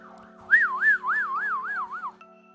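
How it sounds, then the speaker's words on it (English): A wailing ambulance siren sounds from outside, its pitch sweeping up and down in about six even cycles over a low steady hum, moderately loud and then cutting off abruptly. "It's like the third ambulance I heard."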